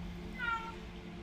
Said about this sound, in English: I thought that was one of my cats